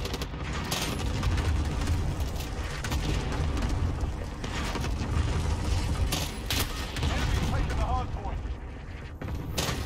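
Modern Warfare gunfire crackles in dense bursts over rumbling booms and explosions, loud and continuous throughout, with a voice talking over the action.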